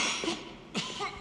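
A man in a film scene gives a couple of rough, faint coughs, separated by a short pause.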